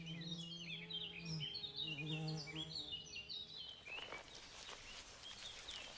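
Wild bees buzz faintly among wood anemone blossoms on a spring forest floor, with a low steady hum, while high, chirping bird song rings out over the top and fades.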